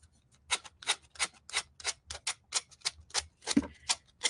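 Sandpaper rubbing excess napkin off a decoupage canvas in quick, rhythmic scratchy strokes, about three per second, close and fairly soft.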